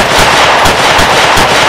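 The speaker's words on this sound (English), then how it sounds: "Tons of guns, shooting." Loud, dense machine-gun fire from an action movie, rapid overlapping bursts filling the whole short stretch with no talk.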